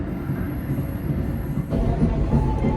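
Motis train rolling through Tugu Yogyakarta station, a steady loud rumble of wheels and carriage noise heard from on board with a faint high whine, swelling slightly partway through.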